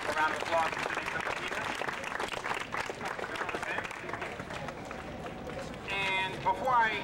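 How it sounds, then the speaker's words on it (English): Applause at a public community meeting on bullying and suicide, a crowd clapping in a fairly close, continuous patter, with voices and some chatter mixed in toward the end. "please give him a round of applause and give Controller Lou's office a round of applause"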